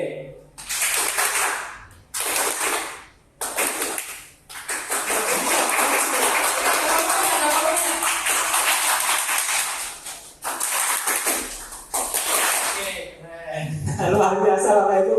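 An audience at a teachers' training session clapping together in repeated bursts that start and stop on cue, loud and dense, with a voice speaking at the end.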